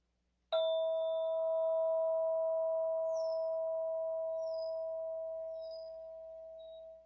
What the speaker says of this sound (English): beginning with the bell tone.